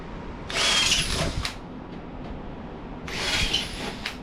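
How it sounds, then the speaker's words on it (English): Power drill re-drilling small rivet holes in a metal welding cart, two close whining bursts of about a second each with a brief quiet gap between them. "I'm gonna re-drill all these other little holes out here"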